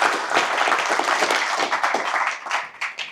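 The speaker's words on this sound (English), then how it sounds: "Give him a big, big applause." Audience applause at a tech community meetup in Berlin, a dense, steady wash of many hands clapping for about three seconds, loud and close, with no talking over it.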